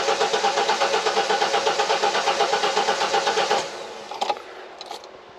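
A four-cylinder Foxbody car engine cranks with a steady pulsing rhythm for several seconds, then stops, followed by a few faint clicks and clunks; close and loud, no talking.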